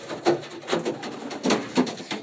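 Racing pigeons land on a roof, giving a series of soft, broadband flutters and thumps in irregular bursts, with faint bird calls mixed in at close to moderate distance.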